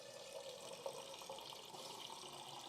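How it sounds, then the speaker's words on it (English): Water runs from a tap into a container, a faint, steady hiss and trickle lasting a few seconds with no other sounds. "I'm filling up my water if anyone hears water filling noises"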